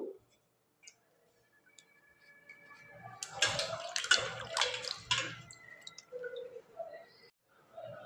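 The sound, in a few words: washing mangoes in water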